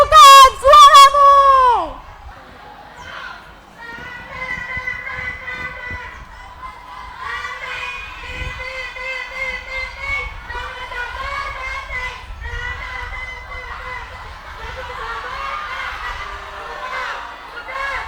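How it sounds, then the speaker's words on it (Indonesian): Junior high students at a school student council election debate chant their team cheer together, a loud, sustained group shout of voices rising and falling, opening with a sharp whistle-like burst. "PDO apakah sudah siap mengumandangkan yel-yelnya yang paling keras?"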